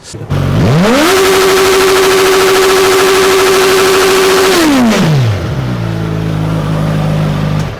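Delivery motorcycle engine with a stock muffler revving hard and close: the pitch climbs, holds high and loud for about four seconds, then falls back to a rough, rumbling idle, with no voices.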